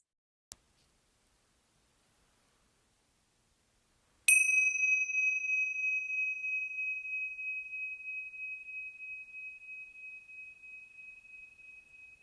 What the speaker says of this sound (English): And at the sound of the bell, coming back to our shared space.